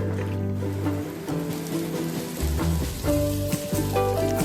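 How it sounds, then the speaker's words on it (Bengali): Raw papaya pieces fry in hot oil with a steady, close crackling sizzle. A tonal background sound runs underneath, and no one talks. "তেলের মধ্যে বাকিগুলোও দিয়ে দিচ্ছি।"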